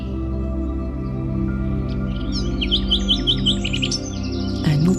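Several birds chirp and sing in quick, bright phrases in a forest clearing, set over a steady low ambient drone with no talking.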